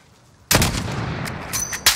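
A sharp rifle shot cracks out loud and close in Call of Duty: Modern Warfare on a highway, followed by a ringing tail and a couple of lighter shots or impacts.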